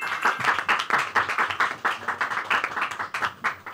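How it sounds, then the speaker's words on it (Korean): An audience at a national high school mock civil trial competition claps to welcome a student team, a lively patter of many hands in quick uneven bursts, fairly close and without speech. "큰 박수로 환영해 주시기 바랍니다."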